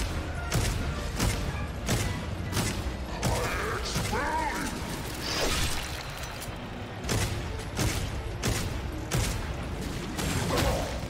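Repeated gunfire from a boss fight in the vampire shooter Redfall, with regular sharp shots over about eleven seconds, loud and close over a busy game soundtrack and mechanical clatter.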